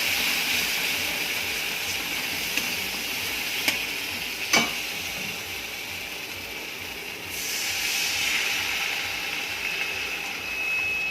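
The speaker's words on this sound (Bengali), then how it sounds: "এবার আমি জল ঢেলে দেবো।" Water poured onto hot oil and spices in a pan for a Bengali fish curry brings up a steady, close sizzle and hiss, with a couple of sharp clinks from a utensil partway through, then the frying swells again.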